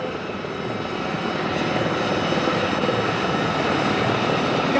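Royal Navy 705 Squadron display helicopter of the Sharks team coming to a hover nearby, a steady loud broadband rotor and turbine roar that swells slightly and holds constant throughout.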